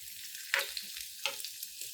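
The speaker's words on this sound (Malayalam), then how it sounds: "നമുക്ക് അണ്ടിപ്പരിപ്പ് മുന്തിരിയൊക്കെ ഒന്ന് വറുത്ത് ചേർക്കണ്ടേ." Coconut pieces, cashews and raisins fry in hot ghee for a festive pradhaman, giving a steady close hiss of sizzling with a couple of brief louder spits as they are stirred; no one speaks.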